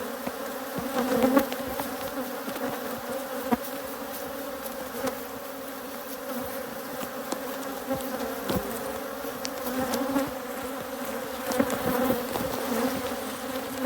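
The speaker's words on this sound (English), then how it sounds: "These are not overly aggressive bees all year." Honey bees swarm around open hives during a honey harvest, a steady dense buzzing drone filling the air close by, with a few louder passes of individual bees and no voices.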